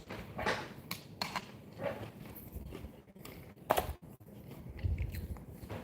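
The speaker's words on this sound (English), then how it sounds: "Excuse the crunching. I had to have some pretzel sticks." Crunching on pretzel sticks close to the mic, a run of irregular bites and chewing crunches at moderate loudness with no talk.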